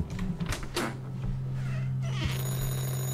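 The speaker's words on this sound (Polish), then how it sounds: "Dobra, dźwięk telefonu." A telephone ringing in the horror video game Anthology of Fear: an electronic bell tone that rises after a few dull knocks and rustles, then rings steadily and moderately loud to the end.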